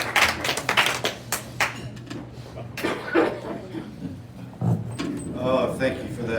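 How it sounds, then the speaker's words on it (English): A brief round of applause at a club meeting, scattered hand claps in the first seconds followed by chuckles, taps and people talking. "Oh, thank you for that round of applause."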